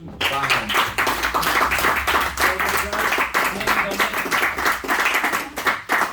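A final round of applause from a small training group at a site-setup course session in London: brisk, fairly close clapping by a modest number of people, steady and lively for several seconds with faint voices mixed in.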